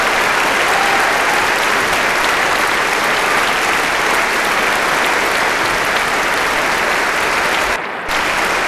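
Concert audience at the BBC Proms applauding, dense sustained clapping from a large crowd that fills the hall and carries on unbroken, with a brief dip near the end.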